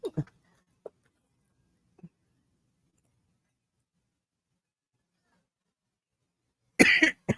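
A woman coughs a few times, short quiet bursts near the start, then a louder, longer cough or throat-clearing burst close to the mic at the end, with silence in between.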